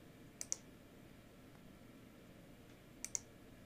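Computer mouse clicking twice in quick pairs, soft and close, one pair near the start and another a few seconds later over a faint quiet room hiss.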